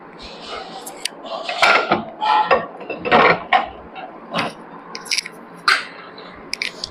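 Glass dinner plates from a matching set are lifted and set down up close, giving several sharp clinks and brief scraping knocks spread irregularly through the clip while someone talks over them.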